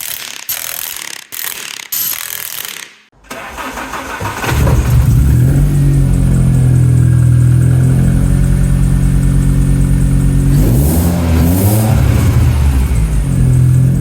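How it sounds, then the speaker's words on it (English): A car idles with its exhaust back on after a front subframe change, a small blow leaking from the middle section of the exhaust; the engine starts after a few clanks, then runs steadily and loud, with one brief rev partway through. "There is a small blow from like the middle section of the exhaust, which is what you can hear"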